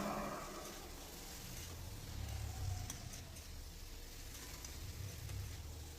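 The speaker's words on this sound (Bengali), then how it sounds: "এরকম করে পরে নাড়তে হবে বেশ কিছুক্ষণ।" Potol, potato and katla fish curry, cooked in a little oil, is stirred in a pan, giving a steady, moderately loud sizzle that runs throughout with soft scraping swells.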